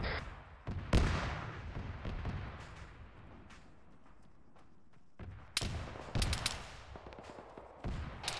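Bursts of small-arms gunfire during a military field training exercise, several sharp cracks and short rattling volleys near the start and again toward the end, echoing outdoors with a quieter stretch between.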